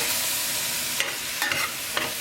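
Whole mushrooms stirred into wild rice pilau in a hot pot give a steady sizzle with a few scraping strokes of a spoon, close by and without any voices.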